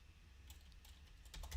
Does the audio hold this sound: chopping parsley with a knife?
no